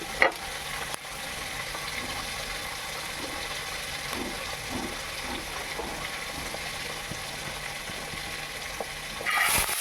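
Black cumin seeds fry in hot oil as a tempering for a Bengali fish paturi, giving a steady, dense sizzle that runs throughout, with a few faint clicks and a louder crackle near the end.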